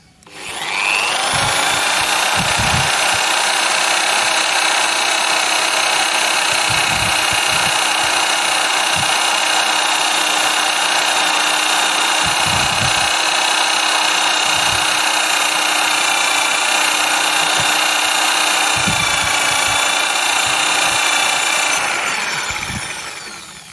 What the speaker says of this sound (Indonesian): Selanjutnya saya akan mengebor besi ya.